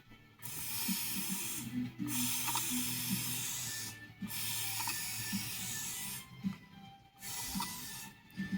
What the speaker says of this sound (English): now, I'm gonna give myself more setting spray